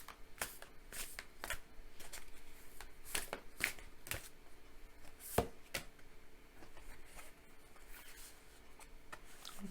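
Tarot cards being shuffled and drawn by hand: a close, steady run of crisp riffles, slaps and slides with sharp individual snaps, no voices.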